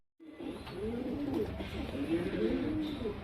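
Makshi pigeons, including a chapper makshi male, coo close by in soft, throaty rolling calls that repeat for a few seconds.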